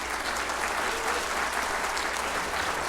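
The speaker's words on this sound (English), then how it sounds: "One more round of applause for all our winners." An awards-ceremony audience applauding its winners in steady, dense applause that fills the room from start to finish, loud and continuous with no pauses or voices on top.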